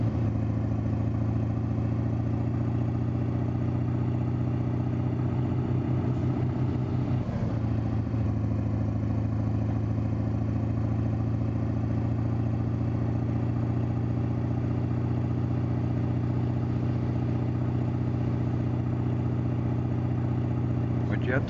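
A truck engine accelerating in the American Truck Simulator game, a steady low droning hum with a brief clattering shift partway through, while someone talks over it.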